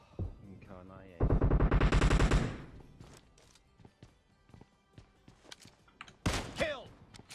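Automatic gunfire from a PUBG Mobile deathmatch bursts out loud and rapid for over a second, surrounded by scattered single shots, thuds and footsteps, with a player talking around the action.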